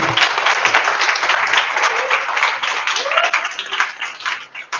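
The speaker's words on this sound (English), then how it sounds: "I want you to give them a big round of applause" Crowd applause at a live demo day pitch event, a loud, sustained clatter of many hands clapping for several seconds, steady with slight swells and no one speaking over it.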